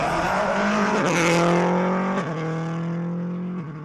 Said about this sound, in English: With the Audi making all the right noises, David Kynaston was still going well in 3rd